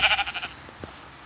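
Sheep in the Minecraft video game give a few short, quick bleats close together, followed by faint soft game clicks and near silence.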